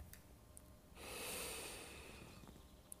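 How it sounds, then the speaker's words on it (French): A calm breath drawn in through the nose during a relaxation exercise: a soft, close hissing inhale that swells for about a second and then fades, with faint clicks before and after. "On va commencer déjà par respirer tranquillement. On va inspirer par le nez"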